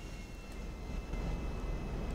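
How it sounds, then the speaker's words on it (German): Steady roaring rush of an airplane diving fast in GTA 5 Online, a dense continuous engine and wind noise with no talk over it. "das Flugzeug ist jetzt richtig schnell. Das rast jetzt ja auch hier voll fett runter."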